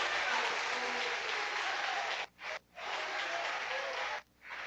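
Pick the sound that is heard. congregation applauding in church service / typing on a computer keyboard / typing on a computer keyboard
congregation applauding in church service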